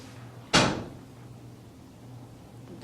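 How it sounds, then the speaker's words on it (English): A door swings shut on its own with one sharp, loud thud, its sound trailing off over half a second against a quiet indoor room hum. "The door just shut by itself."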